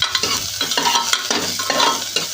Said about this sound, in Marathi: आता हा कांदा आपण परतून घेऊया